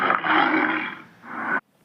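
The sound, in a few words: tiger roaring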